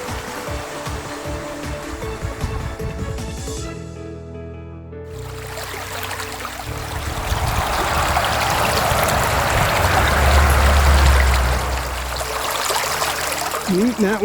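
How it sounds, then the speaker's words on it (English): Small trout brook running through mixed woods of white birch in Maine, a steady close rush and trickle of water with a brief quieter moment early on, swelling louder toward the end. "Here's that little brook we told you about."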